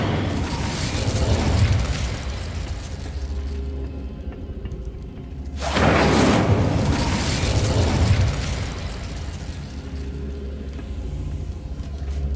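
A loud, rumbling fire-spell blast from the Hogwarts Legacy video game, a sustained roaring burst that swells again midway, with no talking.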